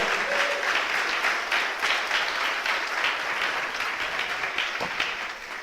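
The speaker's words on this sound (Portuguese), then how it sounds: "Você pode aplaudir o nome do Senhor." Congregation applauding during a church sermon, dense sustained clapping filling the room at even loudness for several seconds, with a faint voice briefly audible beneath.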